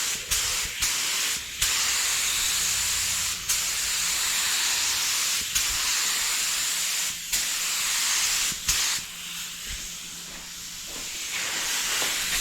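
A spray gun hisses in repeated bursts as oriental blue candy paint goes onto Harley Davidson tins, each pass a loud steady spray broken by short pauses.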